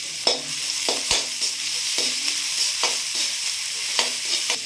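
Chopped onion fries in hot oil and ghee for egg fried rice, a loud, continuous close-up sizzle marked by repeated scraping strokes of a spatula across the pan, with no one speaking.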